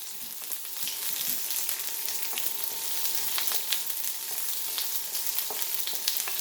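Onion wedges frying in hot avocado oil on high heat, a steady close sizzle broken by scattered sharp pops and crackles throughout, with no talking.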